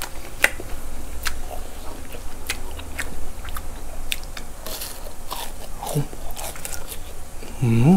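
Someone bites into crispy batter-fried meatballs close up, giving sharp crunches and steady chewing over a low background murmur, with a brief vocal sound near the end.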